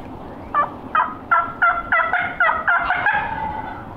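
A wild turkey gobbles in a rapid run of about eight throaty, bubbling notes, moderately distant and clear.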